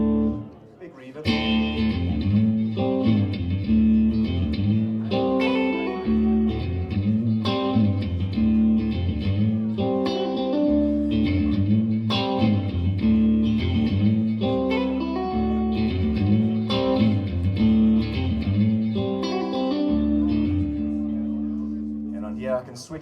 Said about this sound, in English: So this is an AC30 type sound. Big reverb.